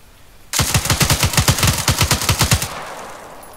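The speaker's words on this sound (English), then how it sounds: "Shoot him." Sustained automatic gunfire from a 2012 military operation: a loud, rapid burst of about twenty evenly spaced shots lasting two seconds, starting abruptly and trailing off into ringing echo.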